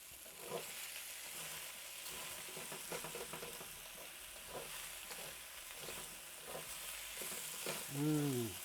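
Eggplant and onion cook in a pan with a constant soft sizzle. Quiet, irregular stirring scrapes sound close by, and a brief squeaky scrape comes near the end with no speech.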